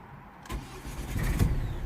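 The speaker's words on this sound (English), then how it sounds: "Let me see if I can start the engine." A Ford Mondeo with an engine fault starts up: a brief crank, then the engine catches and settles into a low, steady rumble, heard close with no voices.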